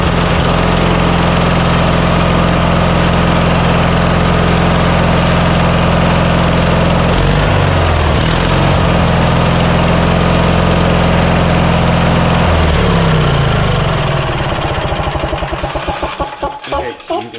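Kohler engine with an adjusted governor spring running loud and close, a steady roaring drone whose pitch shifts partway through and again toward the end as the throttle changes.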